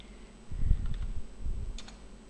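A few quick keystrokes on a computer keyboard while typing a link name, soft close clicks over a low steady hum.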